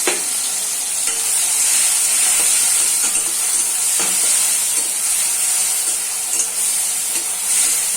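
Mustard paste fries in a pan with whole chillies, a loud, steady close-up sizzle and hiss with a few stirring scrapes and brief bumps.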